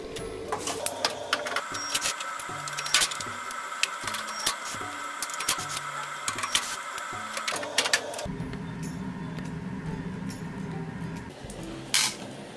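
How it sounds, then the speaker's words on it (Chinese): Screwdriver backing five Torx screws out of a washing machine's rear panel, a close mechanical whir with ticking clicks and rattles that shifts to a rougher grind near the end. "用螺丝刀卸下5个梅花螺丝"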